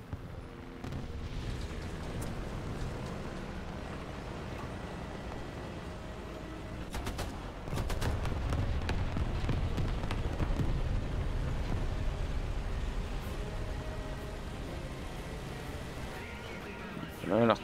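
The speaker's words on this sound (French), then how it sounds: "L'artillerie, évidemment." Artillery shells explode in the War Thunder video game, heavy booms and rumbling blasts that build into a louder, denser barrage midway. Someone talks over them throughout.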